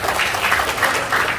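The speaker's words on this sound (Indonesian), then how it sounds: "tepuk tangan buat siapa?" Applause from a seminar audience, a dense, steady wash of many hands clapping close together, fairly loud and continuous with no talk over it.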